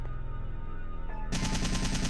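Rapid gunfire in the video game Resident Evil 3, a dense burst of automatic shots that grows louder and brighter partway through, continuous and close with no talk.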